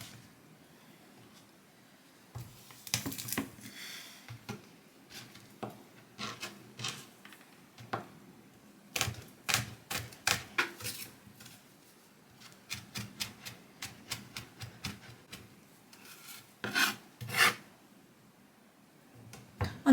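A knife finely dicing garlic on a cutting board, with quick irregular bursts of sharp taps separated by short pauses, close and fairly quiet.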